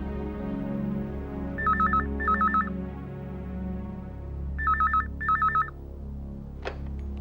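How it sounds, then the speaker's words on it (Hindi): A telephone rings unanswered in a quiet home, with two pairs of electronic ring bursts separated by a pause, sounding against a low steady hum, followed by a brief click near the end. "घंटी तो जा रही है लेकिन कोई फोन नहीं उठा रहा है"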